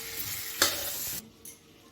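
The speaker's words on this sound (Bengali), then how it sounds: "কিছুক্ষণ আমি আলুটাকে এর মধ্যে কষবো ভালো করে" Potato pieces frying in a spice masala in a pan, a short burst of sizzling with a sharp scrape of a stirring spoon midway before the sizzle drops to a quieter hiss.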